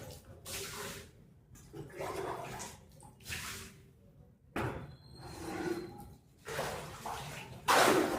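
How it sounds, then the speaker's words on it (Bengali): Water is splashed and poured across a room's floor during cleaning, with several separate gushing bursts that swell and then drop off, close and fairly faint. "এই সামনেটুকু জল দিয়ে ধুয়ে দিই"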